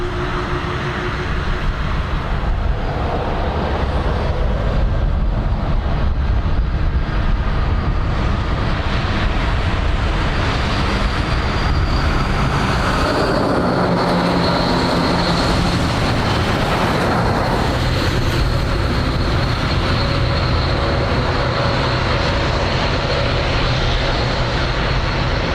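American Airlines Boeing 787 Dreamliner departing Dublin Airport, a loud, steady jet roar that holds and swells for the full length, with no voices over it.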